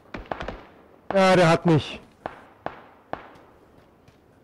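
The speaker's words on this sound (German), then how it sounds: "Oh, ich krieg Schüsse." Gunfire in the first-person battle royale game PUBG, a series of sharp distant cracks and pops spread across the moment while someone speaks German loudly over them.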